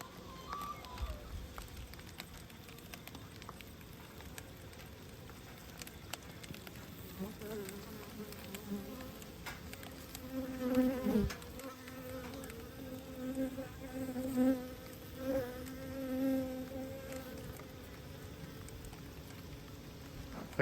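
Honeybees buzz steadily around an open hive during an inspection, a soft, close swarm hum that rises in a few louder passes as bees fly near, with no talking.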